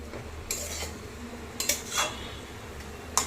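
Red amaranth greens and fried shrimp stirred together in a pan, a few scraping metal clinks of the spatula at intervals over a low steady background, close and fairly quiet, with no talking.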